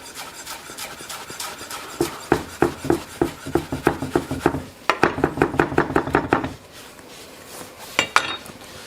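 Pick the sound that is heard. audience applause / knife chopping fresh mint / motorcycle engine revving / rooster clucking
knife chopping fresh mint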